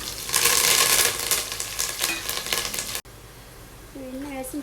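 Onion, garlic and curry leaves fry in hot oil in a pan with a loud, close, dense sizzle, easing after a few seconds to a softer crackle as a voice speaks over it.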